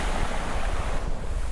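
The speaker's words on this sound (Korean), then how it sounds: "파도에 휩쓸리는 자갈 소리가" Waves wash steadily over beach pebbles on a Namhae seashore in a continuous rushing hiss, with wind buffeting the microphone throughout.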